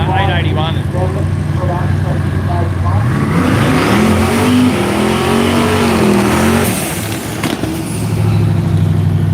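Radial drag racing Mustang engines rev and accelerate loudly at close range, a rising, sweeping roar that swells mid-clip then settles to a steady drone, with a voice talking over the noise.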